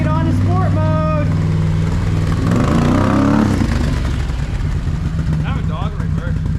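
A Can-Am Renegade 1000 ATV with a Yoshimura exhaust, switched into sport mode, runs loudly in the rain, revving and surging with rising and falling engine tones while people talk over it.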